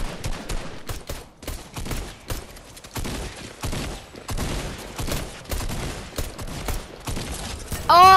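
Rapid bursts of video game gunfire, dense overlapping volleys of shots repeating across the whole stretch, loud and close, with a brief mechanical sound at the end.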